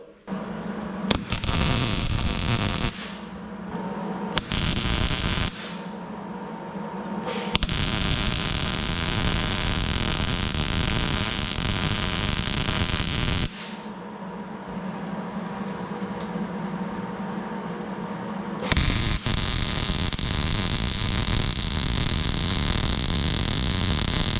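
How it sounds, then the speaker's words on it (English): Tack welding on a custom door latch cover for a Yamaha YXZ side-by-side: loud, steady crackling arc bursts lasting several seconds each, separated by short pauses, with no talking. "now I'm gonna tack this and then I'll take it off and finish and weld it"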